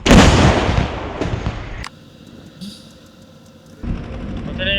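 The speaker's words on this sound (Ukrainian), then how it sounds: "Першому один вогонь. Гармата!" A single heavy artillery blast from a 2S7 Pion self-propelled howitzer booms loudly at the start, followed by a rolling echo and quieter background hum.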